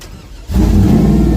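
A race truck running without a hood fires up, its engine catching suddenly after a quiet moment and settling into a loud, steady, deep roar close by.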